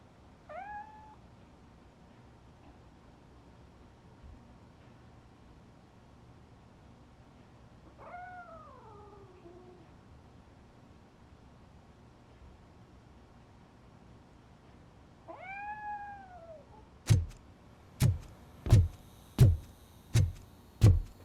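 A cat named Grumpy in Robocop Rogue City gives three separate drawn-out meows spaced several seconds apart, and a run of sharp loud thuds follows near the end.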